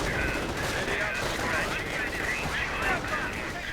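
Gunfire crackles through a real-time strategy battle, rapid bursts of small-arms shots with a faint background rumble, fairly quiet throughout with no voices.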